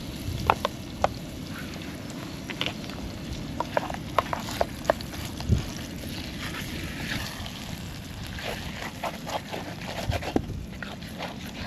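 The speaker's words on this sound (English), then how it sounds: "It's just so I can actually fry it properly, other than sort of boiling it." Meat sizzles steadily in a pan over a camping stove outdoors, a continuous crackling fry with scattered sharper pops and faint stirring, heard close and alone.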